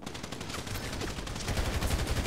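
Rapid gunfire rattles in the GTA V Online video game on a Counter-Strike style map, a dense run of sharp shots that grows heavier toward the end, moderately loud with no talk.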